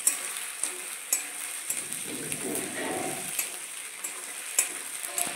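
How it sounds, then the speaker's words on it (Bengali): Capsicum and onion fry in a pan for chilli chicken, a steady close sizzle broken by regular clicks and scrapes of a spatula stirring, with no talking. "দেখুন আমার ক্যাপসিকাম আর পেঁয়াজটা ভাজা হয়ে গেছে।"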